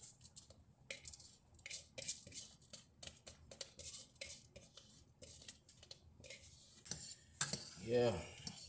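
A spoon stirs white rice in a pot, giving faint, quiet clinks and scrapes of metal against the pot in uneven bursts, with a louder clatter near the end.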